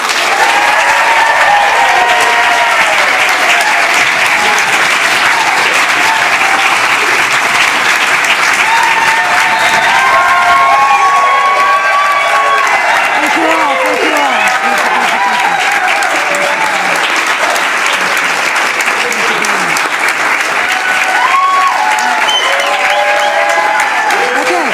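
A council meeting audience bursts into sustained applause and cheering, dense steady clapping with whoops and shouts rising over it, loud and close, for the full length without a break.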